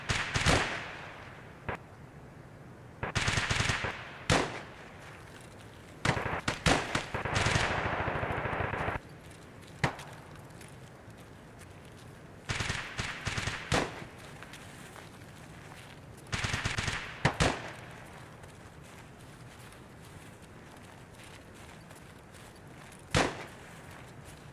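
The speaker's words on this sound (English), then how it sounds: "That sounds like a sniper." Gunfire in the video game Escape from Tarkov, a scattered series of sharp cracks and short bursts, some sustained and loud, others distant, over a quiet ambient background without talk.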